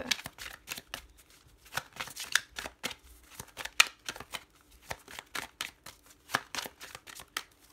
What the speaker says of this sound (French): je vais prendre toutes les cartes qui ont décidé de se retourner